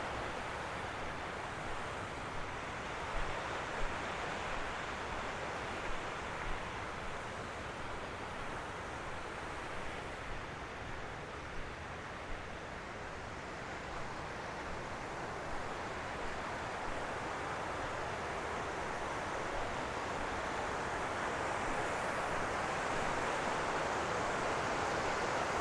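A constant, loud roar of rushing water fills the whole stretch, dense and unbroken, like a swollen mountain creek close by on the Lava Lake Trail in Montana's Madison Range.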